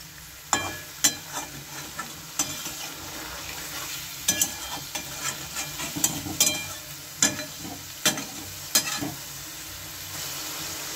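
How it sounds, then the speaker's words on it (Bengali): Small fish curry sautéing in a pan, with repeated sharp spatula scrapes and clacks in an irregular rhythm over a continuous sizzle, close and clear with no talk. "এখন আর একটু নেড়ে দেব।"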